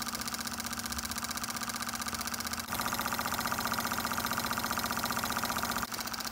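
A homemade Stirling engine car running on cologne as its heat source, with a steady mechanical whir and rapid rhythmic ticking of the piston and gear drive, close and continuous throughout, growing slightly louder midway.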